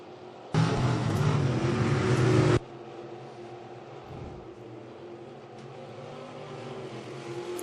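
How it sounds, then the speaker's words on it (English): GM crate sprint cars race around a dirt oval at an evening event, a loud two-second burst of engine roar passing close before fading into a steadier, more distant drone of the field. "You watch all of the cars kicking sideways, they race through 4."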